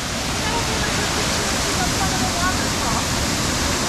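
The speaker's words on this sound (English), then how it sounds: "But there's a waterfall." A waterfall on Maui's Road to Hana roars as a steady, loud, broadband rush of falling water that fills the scene without pause.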